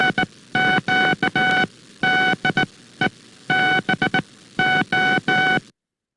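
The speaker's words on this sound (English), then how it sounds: "This is what the Titanic's note would have sounded like. 125 hertz synchronous rotary spark gap on positive and negative peaks." Tone bursts from a 125 hertz synchronous rotary spark gap radio transmitter recreating the Titanic's note, keyed in clear Morse-style groups of dots and dashes, steady and loud with no talk, ending in silence.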